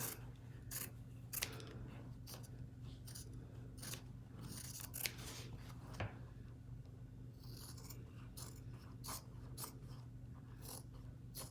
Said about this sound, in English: I'm gonna end up cutting some of this faux leather too